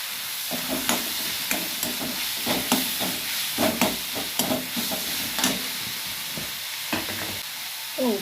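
Ginger garlic paste and chopped tomatoes sautéing in a pan for a Chettinad egg gravy, giving a steady close sizzle with repeated scraping stirs through the whole stretch, no talk.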